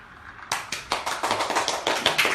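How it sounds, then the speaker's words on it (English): One person claps their hands close by in a quick, steady run of about a dozen light claps, heard alone over a quiet room. "And a little bit of applause."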